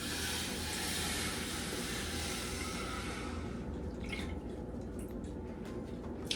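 Half and half and whole milk pour steadily into a saucepan, a continuous close splashing gush that thins out toward the end into faint trickles and drips.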